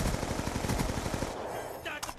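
Rapid automatic fire from a Peacekeeper submachine gun in a multiplayer video game sounds as a dense, fast burst of shots that ends partway through, followed by a brief lighter clatter.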